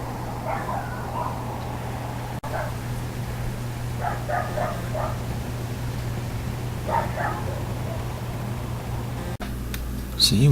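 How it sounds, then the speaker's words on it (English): Neighbourhood dogs bark and yip in the distance at night during earthquake rumbles, giving scattered faint bursts over a steady low hum and background noise. "so much people's dogs are barking out there"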